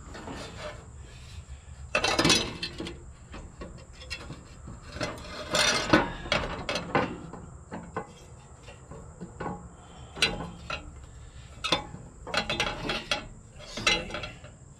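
Bolts being fitted and tightened on the water pump fan of a Caterpillar D3B bulldozer, with scattered close metallic clicks, ratcheting and clanks in irregular bursts between quieter pauses.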